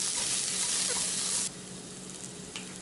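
Loud, close sizzling of minced garlic frying in a hot pan, dropping in intensity partway through, with faint stirring clinks.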